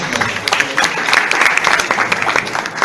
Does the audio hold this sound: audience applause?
yes